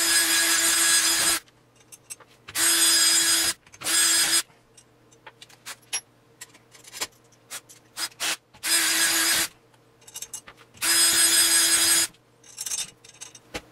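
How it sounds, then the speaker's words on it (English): A power drill enlarges a hole for a 5/16 bolt in a DIY camera stabilizer build, running in several loud bursts of a few seconds each, separated by quieter gaps of handling noise. "once you're done with all that messy drilling and pain in the butt stuff"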